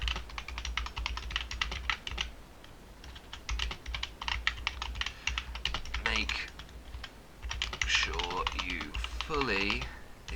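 Typing on a computer keyboard while writing written feedback into an online form, with steady bursts of key clicks throughout and a voice speaking briefly near the end.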